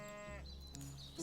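A sheep bleats in the fantasy role-playing game Divinity: Original Sin Enhanced Edition, one wavering, nasal bleat heard up close and loud, followed by quieter game ambience.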